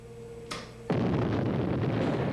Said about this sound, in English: the results of explosions like these can be controlled by careful placement of charges and sequential firing